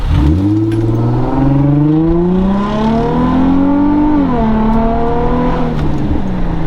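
Infiniti G35 with resonator and muffler delete, a loud close exhaust drone rising and falling through revs, with faint crackling overtones, continuous and alone.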